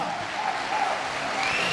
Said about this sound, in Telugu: బాలి సార్ ఒకసారి గ్రాండ్ క్లాప్స్ ఇవ్వండి గట్టిగా.